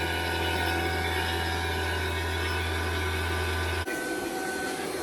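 An HVAC vacuum pump evacuating a mini-split system drones steadily with a low hum and high whine, then the low tone cuts out abruptly near the end while a hiss continues.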